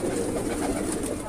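A very large pigeon in a loft in Bareilly, Uttar Pradesh coos steadily and close by, a low continuous throaty murmur that holds through the whole short stretch without a break.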